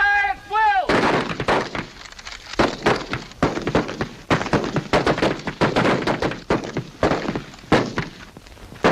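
Soldiers fire rifles on command in a Hal Roach comedy film, producing a rapid, loud, ragged volley of many overlapping shots that continues for several seconds, with a shouted voice at the very start.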